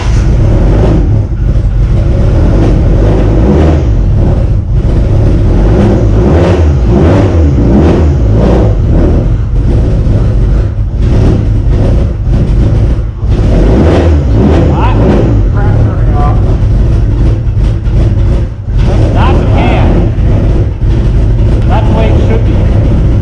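A 1990s Dodge Neon ACR with a big cam runs loud and close, its engine held at a rough, pulsing idle and blipped up on the throttle in several surges. Voices talk over the running motor.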